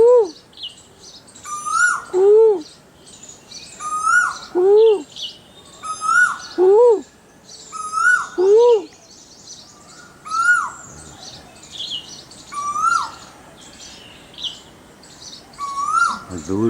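Repeated loud, rising whistled calls from a nearby red-eyed bird come at a steady rhythm every couple of seconds in a Raebareli garden, answering a distant koel, with other birds chirping in the background.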